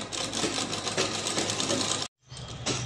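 A sewing machine stitches the hem of a net umbrella circle skirt in a steady, close whirring run, stops abruptly for a brief moment, then starts stitching again.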